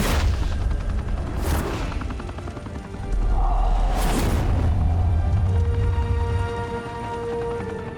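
Gunfire in Batman: The Telltale Series: sustained rattling bursts over a heavy helicopter-like rotor drone, with two sharp cracks standing out, loud and continuous, no talk.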